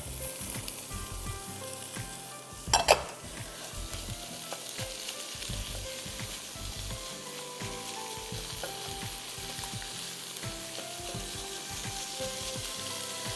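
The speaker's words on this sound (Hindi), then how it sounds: "हम हल्का सा इसको सौते कर देते हैं ताकि दाल और आलू में इसका टेस्ट आ जाए।" Lentils and potatoes sauté in a pan with a steady, moderate sizzle, punctuated by soft stirring scrapes and a brief utensil clatter early on.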